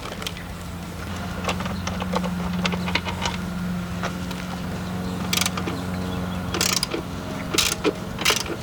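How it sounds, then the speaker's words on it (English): A ratchet wrench clicks in quick repeated bursts while undoing bolts to remove the battery from a Honda Rebel CMX500/300 motorcycle, close and fairly loud, with a few sharper metallic knocks near the end. "So I'm just going to go ahead and quick undo the battery, pull that out, and we can pull those forward bolts out too."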